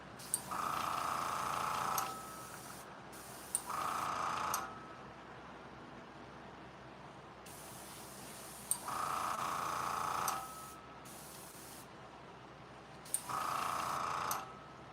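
An airbrush priming miniatures gives repeated bursts of hissing spray lasting a second or two each, separated by quiet gaps, with small clicks at the start of some bursts.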